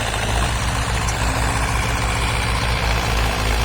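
A dump truck's heavy diesel engine idles steadily with a deep, rumbling low throb, loud and close, running continuously without pauses.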